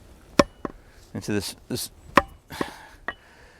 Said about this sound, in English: not biting into the chopping block either